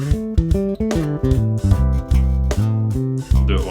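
Guitar fill built on the major scale with a grace-note slide, a quick run of plucked notes with rhythmic bass pulses underneath, close and loud with no talking.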